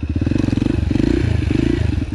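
Motorcycle engine running close by while riding, a steady pulsing, chugging drone with faint clatter, practising wheelies after a long break from riding.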